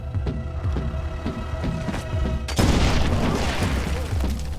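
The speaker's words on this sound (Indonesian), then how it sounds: "langsung melempar sebuah batu untuk memicu ledakan berantai." Land mines detonating in a chain after a thrown rock sets them off: a heavy boom with dense crackling debris cuts in about halfway through, following a rumbling, throbbing stretch of battle noise.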